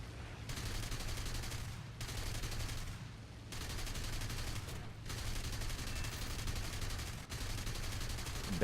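Machine gun fire from a Bf109 F-4 in War Thunder rattles in long sustained bursts separated by brief pauses, steady and mid-level over a constant engine drone.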